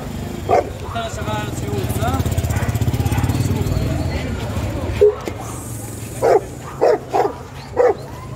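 Dogs and puppies at an outdoor dog market bark in scattered short yaps, a few near and a cluster toward the end, over a droning engine-like crowd hum with people talking.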